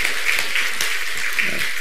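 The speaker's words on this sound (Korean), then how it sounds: "그냥 그런 대로 박수치고 환영 한번 해주세요" A church audience claps to welcome a guest couple in a short, dense burst of applause that stays steady and close for the whole moment.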